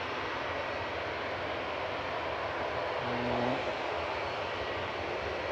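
A Jet2 airliner departing Manchester Airport gives a steady, distant broadband jet roar, with a brief tonal hum rising around the middle before settling back.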